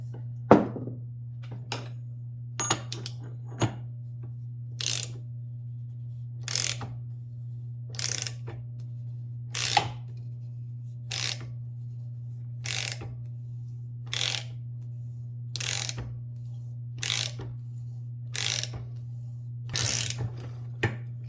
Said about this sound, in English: we'll be using a 36 millimeter ½ inch socket to turn this thing in while using WD-40